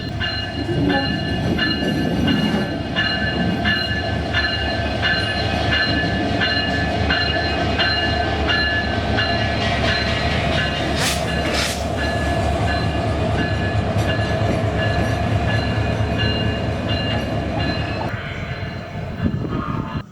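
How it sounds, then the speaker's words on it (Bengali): A passenger train pulling out of the railway station at Cox's Bazar, a loud, continuous rumble of wheels and carriages with rhythmic rail clatter and a brief hissing rush midway, heard up close for the full stretch. "আমাদের ট্রেন ছেড়ে দিল"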